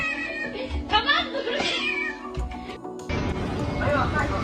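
Cat meowing several times in a row, drawn-out whiny cries close by, mixed with people talking in the background.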